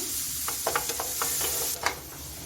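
Vegetables for chicken chowmein frying in a pan, a steady hiss of sizzling broken by a few light scrapes and taps of stirring, close and fairly loud with no voice.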